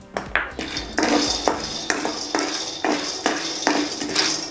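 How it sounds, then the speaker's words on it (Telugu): Peanuts tipped into a metal pan for dry roasting, a quick series of bright metallic clinks and scraping rattles repeating roughly every half second, close and alone. "ముందుగా నేను వేరుశనగల్ని వేస్తున్నానండి."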